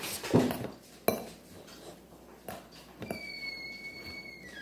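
A small spoon stirs and taps inside a container, giving several distinct clinks spaced apart, then a faint sustained ringing tone, close and fairly quiet with no speech.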